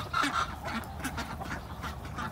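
Ducks kept together with chickens give off repeated short quacks and honks in a farmyard, moderately loud against outdoor background noise.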